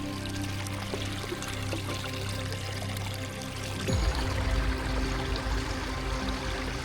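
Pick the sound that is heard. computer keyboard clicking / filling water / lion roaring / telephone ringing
filling water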